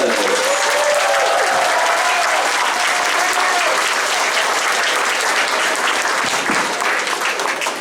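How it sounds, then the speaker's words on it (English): An elementary school audience at an evening band and orchestra concert gives the student musicians a big, loud round of applause, dense clapping throughout with a brief voice early on. "Please give them a big round of applause."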